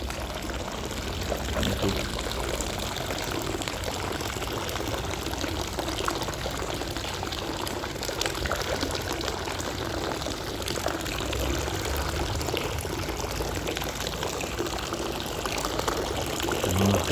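Hot drinking water from a public fountain in Wiesbaden pours and splashes in a steady, unbroken outdoor rush, even in level throughout, heard close by with no talk over it.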